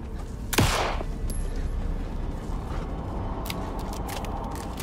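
Gunfire in the video game Alan Wake 2, one loud sharp shot up front whose echo rings out, followed by faint clicks and a low rumbling in-game ambience.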